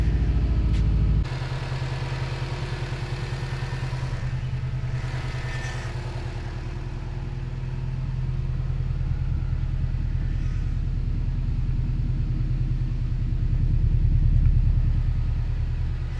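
A Subaru WRX engine, just repaired after being blown, catches and settles into a steady, rumbling idle that continues throughout, close and fairly loud with a low, even drone.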